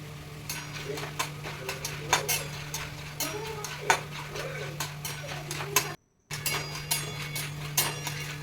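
Popcorn pops in hot oil in a pan, a steady scatter of light ticks and small pops over a low constant hum, fairly quiet and close.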